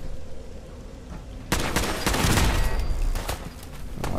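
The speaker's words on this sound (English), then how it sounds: "Oh, that's a turret." Automated turret in Fallout 4 opens fire partway in, launching a dense rapid burst of gunshots that rattles on loudly for a few seconds after a quiet lead-in.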